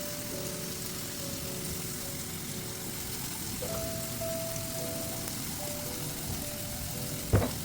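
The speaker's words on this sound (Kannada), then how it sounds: "ಇದು ಫ್ರೈ ಆಗ್ತಾ ಇರಲಿ." Pineapple pieces for chandrapuli frying in a pan, a steady close sizzle that keeps going throughout, with a brief clink near the end.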